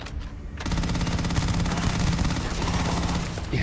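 Shotgun fire during a boarding fight in the game Starfield, heard as a dense, sustained stretch of gunfire that kicks in abruptly after a short quiet start and stays loud throughout.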